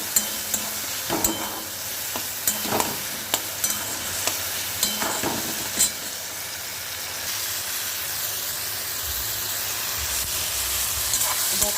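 Eggplant bharta with tomato, onion and green chilli frying in a pan, a steady sizzle broken by repeated scraping and pressing knocks from mashing in the first half, then a smoother continuous hiss.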